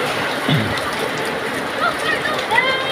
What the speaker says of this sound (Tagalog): Masyadong malakas yung ulan.